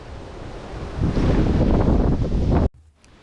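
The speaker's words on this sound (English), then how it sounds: "as soon as I leave the forest, it will be very windy" Loud coastal wind in January roars and buffets the microphone on the Fishermen's Trail, swelling to a strong gust with surf-like rushing before cutting off suddenly.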